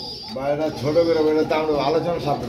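A pair of Andalusian pigeons cooing close by in soft, repeated rolling phrases, with someone talking over them throughout.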